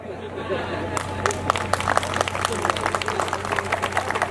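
Applause and clapping from an audience at a live comedy show where a performer mimics politicians, a steady patter of claps starting abruptly and continuing throughout under a low hum.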